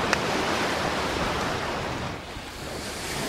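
Waves wash onto a beach on Ajishima island in Japan, a broad continuous roar of surf with wind buffeting the microphone, steady and fairly loud throughout without voices.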